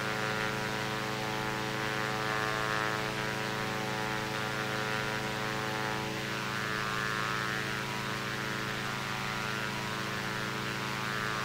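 A Diamond DA-62 twin propeller aircraft in the X-Plane 11 flight simulator drones steadily throughout, a continuous engine hum with a constant pitch and no talk.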